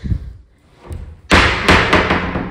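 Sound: thud of opening the wrong door

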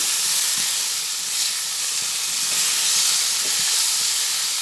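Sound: stirring kochur loti with chilli powder frying in pan

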